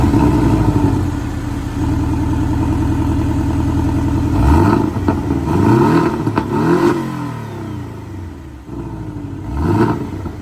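A 2018 Porsche 718 Boxster with blacked-out twin exhaust, its engine idling then rising and falling through several revs, near and fairly loud, no talk.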